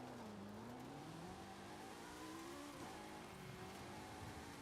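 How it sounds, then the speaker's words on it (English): A DeLorean's engine revs in an off-road race video game, a continuous rising and falling whine over a wash of tire and surface noise, very quiet throughout. "So we're going to do an off-road race again with the DeLorean."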